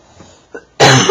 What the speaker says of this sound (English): I'm so sorry for the cough.